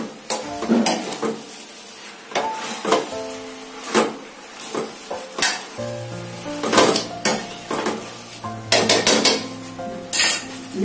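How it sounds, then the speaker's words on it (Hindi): Metal spoons clatter and scrape against a pan while veg chowmein noodles are tossed and mixed, with repeated irregular clinks and scrapes, close and fairly loud, no talking. "अच्छे से मिक्स कर ले एक और स्पून की सहायता से"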